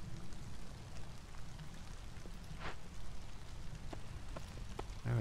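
Drizzle falls in Against the Storm as a soft, steady patter of rain on surfaces with a few scattered drops, faint and continuous with no voices.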